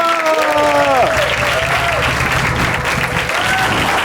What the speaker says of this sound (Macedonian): Аплауз за Кристина!